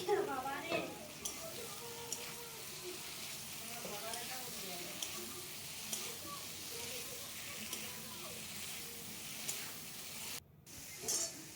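Potatoes and spices sautéed in a pan for a duck egg curry, heard as a quiet sizzle with light stirring. Faint background sounds come and go, and there is a brief dropout near the end.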